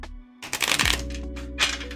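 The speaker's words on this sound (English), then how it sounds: "Let me give these a good shuffle." A deck of oracle cards being shuffled and stacked by hand, with quick riffling flutters and soft slaps of the stiff cards, close and clear over a low steady hum.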